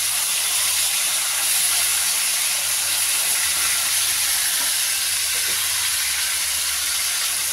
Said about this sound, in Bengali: যদি উল্টাতে হয় উল্টেই দিই একবার, আর একবার উল্টে উল্টে ভাজি।